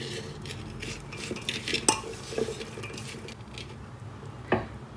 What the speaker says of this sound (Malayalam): ഇനി ഒന്ന് മിക്സ് ചെയ്യുക